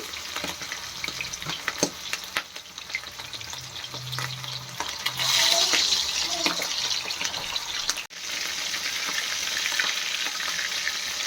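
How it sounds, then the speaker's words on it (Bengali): Spiced hilsa fish pieces fry lightly in a pan over a high gas flame, giving a steady broadband sizzle throughout with occasional stirring scrapes and a brief louder surge midway. "ডিপ করে ভাজা যাবে না হালকা করে ভাজতে হবে"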